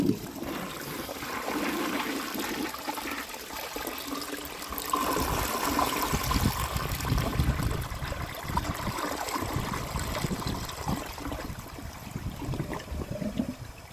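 A 1951 Crane Neuday toilet flushes during a performance test, a steady rushing, gurgling swirl of water that holds for the whole stretch, swelling slightly midway, close and alone with no voices.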